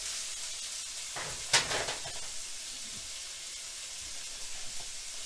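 Egg roll filling stirred in a hot pan, a faint steady sizzle with a brief scraping clatter and a few light stirring scrapes later, no talking.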